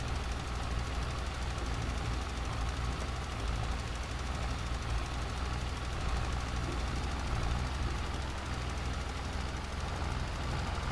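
Tractor working a field while spreading lime in Farming Simulator 22, a steady mid-pitched engine drone that runs continuously and evenly at moderate loudness, with no talk.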